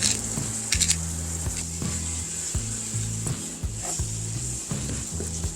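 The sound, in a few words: ground meat and onions sizzling while being stirred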